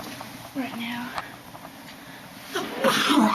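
A person with the sniffles sneezes, a sharp burst after a short intake of breath, close and loud, with people talking nearby before and after.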